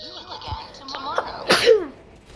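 A single sharp human sneeze bursts out midway through, close and loud, preceded by faint breathy sounds and a brief vocal noise.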